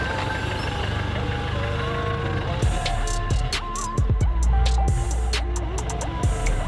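A salvaged Mercedes W205 C-Class rolls slowly with its engine running, a low steady hum and rumble under intermittent beeping, with occasional clunks and brief bursts of noise as it moves.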